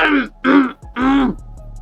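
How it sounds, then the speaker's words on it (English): Three rough, harsh throat-clearing bursts in quick succession, close and loud, with short pauses between them. "I know you're trying to clear your throat, but don't do it this way."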